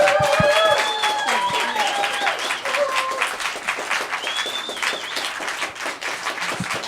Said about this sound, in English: can we give these beautiful people a round of applause?